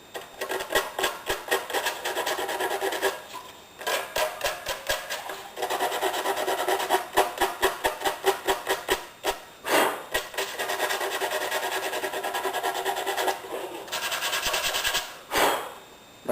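Rasping strokes of a file beveling the sharp edges of a plastic NES console case, steady rhythmic back-and-forth passes in close bursts with brief pauses between sets.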